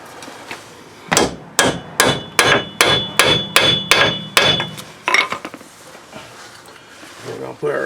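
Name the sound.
hammering extractor onto bolt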